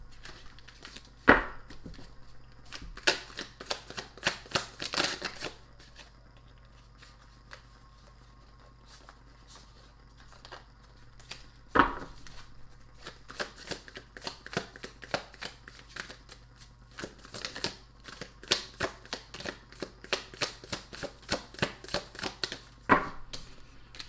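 Tarot cards shuffled by hand, close and quiet, giving repeated crisp riffling bursts with sharp card snaps at intervals over a faint steady hum.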